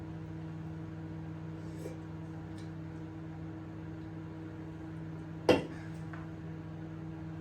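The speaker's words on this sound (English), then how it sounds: "we've got 400 grams of chocolate in here, half and half darkened milk, and we're going to get that microwaved down" A microwave oven runs while melting 400 grams of chocolate, half dark and half milk, giving a steady, low, faint hum broken by one sharp click near the end.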